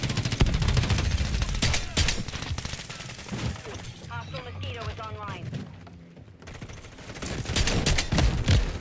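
JAK Devastators video game gun fires in dense bursts of sharp, loud reports, pausing briefly mid-clip before the heavy gunfire resumes.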